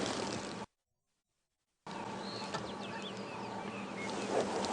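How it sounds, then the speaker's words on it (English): Faint bird calls and chirps during a morning safari drive at Djuma Game Reserve, a quiet outdoor background with a short stretch of total silence partway through. "all around you can hear beautiful bird sound"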